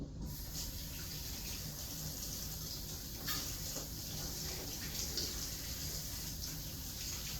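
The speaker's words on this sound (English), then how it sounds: "For my beef broth, I just use hot tap water." Hot tap water runs steadily, a continuous broadband splash and hiss with no pauses.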